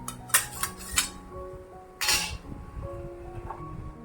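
Cooked bhajani thalipeeth flatbread lifted from a pan onto a plate, with a few close metallic clinks and scrapes of utensil against pan, one louder scrape near the middle, no talking.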